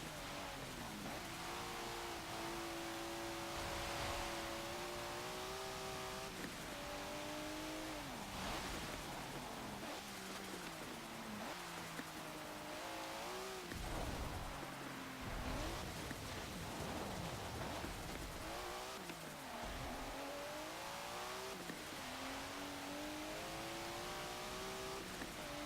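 A 1992 Mitsubishi Galant VR-4 engine accelerating on track in Forza Motorsport 7, revving up through the gears in repeated climbs with brief dips at each shift, a steady faint drone lasting throughout with no talking.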